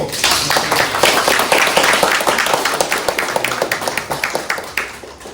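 Lecture-hall audience applauding a guest scholar at a university Buddhist studies lecture, loud sustained clapping with a clear rhythmic pulse that slowly thins toward the end.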